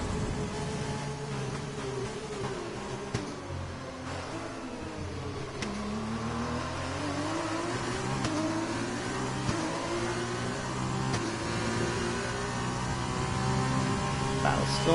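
Formula 1 car engine sound from the racing game F1 2020 at the Italian circuit, a steady droning engine note with rising and falling pitch sweeps as the car accelerates, continuous and fairly loud throughout.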